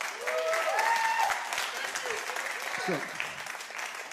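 A live comedy-show audience breaks into warm applause, a full, steady clatter of many hands with a voice speaking over it.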